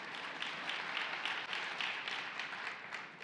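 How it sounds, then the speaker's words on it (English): Scattered audience applause at a SharePoint Virtual Summit keynote, a steady wash of distant clapping throughout without any clear voices. "Pretty cool, you can clap,"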